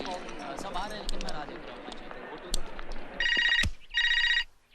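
After conversation in a scene from the 2000 Hindi film Astitva, a telephone bell rings in two distinct, clear bursts, and a brief thud falls just before the first ring.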